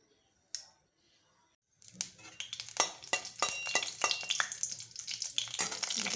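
Mustard oil heats in a pan on a gas stove, crackling and sizzling steadily at close range after a brief clank and a couple of seconds of near silence, with sharper pops scattered through the frying.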